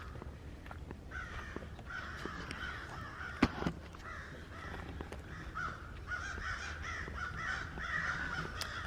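Black crows up in a tree caw again and again in a loud, raucous chorus, harsh calls overlapping over steady outdoor ambience, with one sharp knock partway through.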